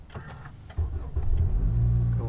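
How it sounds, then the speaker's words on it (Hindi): A car engine starts and settles into a steady low idle, loud and close, following a few faint clicks and rustles inside the vehicle. "ओके, कार हो चुकी है स्टार्ट।"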